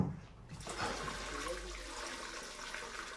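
A bucket of old bath water is poured into a toilet bowl, a sustained rushing, splashing gush that starts abruptly and continues for a few seconds, fairly quiet and close, with no talking.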